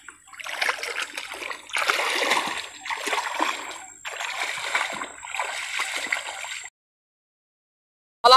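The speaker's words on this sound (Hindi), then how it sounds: "मेरे तो पैर भी बहुत ज़्यादा धंस रहे हैं ये खतरनाक दलदल में" Feet sink and slosh through a waterlogged jungle swamp in soaked shoes, five heavy wet splashing steps in a slow rhythm, close and loud, then silence.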